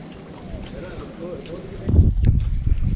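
Wind gusting across open water near mangroves while fishing from a small boat, a steady rushing buffet on the microphone that swells louder in the second half, with a voice faintly present.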